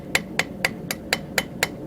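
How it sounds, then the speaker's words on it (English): A small ball peen hammer taps a forged railroad spike, eight sharp, ringing metallic strikes at a steady quick rhythm, close and clear with no talk. "I'm using a little ball peen hammer and just"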